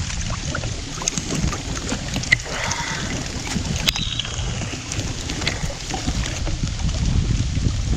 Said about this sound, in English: anything to stop this biting wind right now